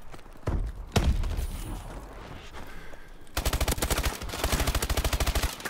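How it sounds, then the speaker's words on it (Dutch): Gunfire in the video game Call of Duty: Advanced Warfare: a few single shots, then a long rapid automatic burst, loud and close. "Ik schoot ze alle twee zo hard, jongen."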